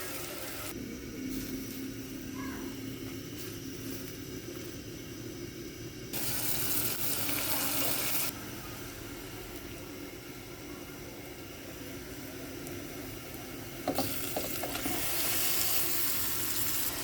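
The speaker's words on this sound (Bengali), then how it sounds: "পেঁয়াজটা একটু ভাজা ভাজা করবো।" Onion frying in white oil with a little salt in a pan, giving a continuous soft sizzle that swells into louder bursts now and then, with no voices.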